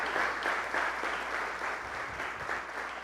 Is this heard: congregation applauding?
yes